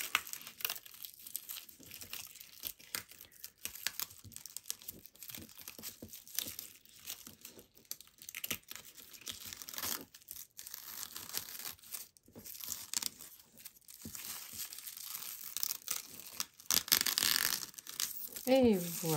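Close, quiet crinkling and tearing of backing paper being slowly peeled off foam mounting board, with soft irregular scratchy bursts and occasional speech.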